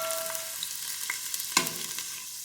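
Onion and grated garlic frying in butter and oil in a pot give a continuous close hiss of sizzling with small pops and a brief clink of a utensil partway through.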